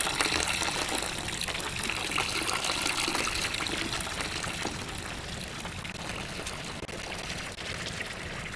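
Liquid gushes steadily and continuously into a beer brewing vessel in a brewing equipment setup, a close, full pouring wash with no talk.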